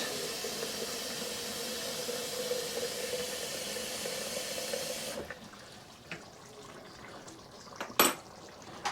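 Water is poured into a cooking pot of black bean beef stew in coconut milk, a steady rushing hiss for about five seconds, then quiet simmering with a few clinks.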